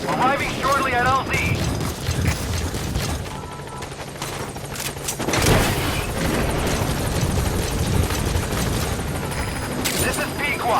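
Support helicopter in Metal Gear Solid V arriving at a landing zone, a steady loud rotor and engine roar that runs the whole time, with mechanical clanks and bursts of gunfire-like noise mixed in and voices talking over it.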